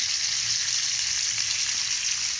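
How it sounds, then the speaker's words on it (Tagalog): Cabbage hits a pan of stir-fried chopsuey vegetables, raising a loud, steady sizzle that holds without a break, with faint stirring beneath it. "ilalagay na natin yung ating cabbage"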